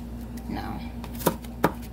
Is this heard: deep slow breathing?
no